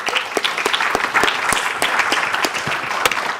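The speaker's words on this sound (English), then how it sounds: "appreciate the round of applause" An audience at a pitch competition grand final claps in a dense, steady round of applause with sharp individual hand claps close by, loud and continuous throughout with no talking over it.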